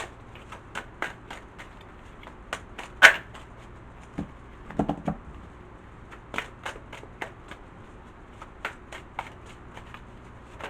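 Tarot cards being shuffled by hand, giving a string of soft, crisp riffling clicks and flutters at a steady pace, close and quiet, with a louder burst of card snaps partway through and no talking.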